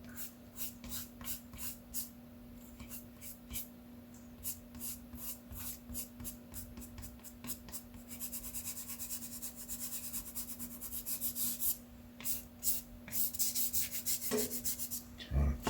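Eraser rubbing back and forth across a drawing on paper, a close, steady series of dry scrubbing strokes that grows busier and louder toward the end, with no voices.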